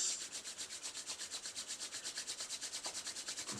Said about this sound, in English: Rub the palms